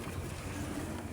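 A trawler boat's engine on the water makes a brief, steady, rough drone that stays even in loudness, with no voices.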